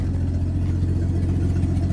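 A 1982 Ford F-150 with a 4.9L inline-six idles with an open exhaust manifold, giving a loud, steady, close low rumble with a fast pulsing beat and no talk.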